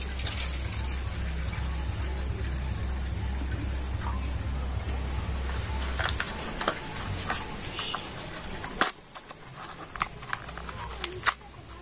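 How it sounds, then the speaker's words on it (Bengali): Water poured into a container to mix a drink for Glucon-D ice cream, a steady close gushing fill that stops partway, followed by light clinks and taps, with a low hum underneath. "তো প্রথমে আমি একটা জায়গাতে করে জল নিয়ে নিচ্ছি।"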